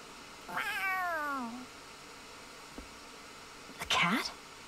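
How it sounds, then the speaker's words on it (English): Cat in the video game Tales of Arise gives one drawn-out, falling meow, then a short sharp second cry a few seconds later, close and clear over a quiet background. "A cat? Where'd it come from?"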